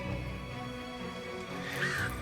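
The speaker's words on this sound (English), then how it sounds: "I can hear an eagle." An eagle's call in the video game Baldur's Gate 3 rings out briefly near the end, a high, piercing cry over a steady, droning game ambience.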